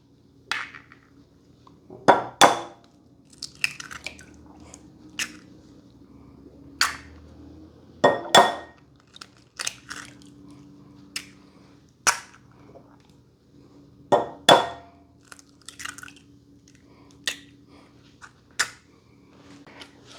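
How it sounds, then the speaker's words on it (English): Four eggs cracked one after another into a mixing bowl, a run of sharp close taps and cracks in an uneven rhythm with small knocks between them, with no talking over them. "Next in the bowl, crack 4 eggs."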